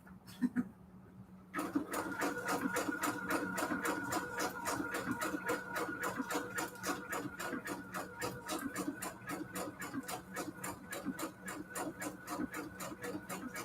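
A sewing machine stitching at a rapid, steady, even clatter that runs without a break after a brief start. It is fairly close and continues with no talking over it.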